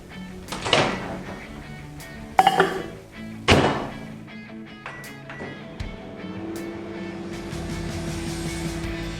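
A bowl being set into a microwave: a few sharp knocks and a door thunk, then a steady low hum of the oven running for several seconds.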